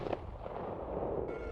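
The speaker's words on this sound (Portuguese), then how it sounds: "Veio o segundo tiro." A single sharp gunshot cracks out near the start, then a rough, rumbling noise lingers for the rest of the moment. No voices are heard.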